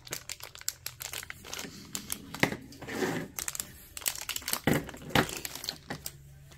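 Plastic crinkling and rustling in irregular bursts, close by, with sharp crackles and brief pauses as something is handled inside a bag.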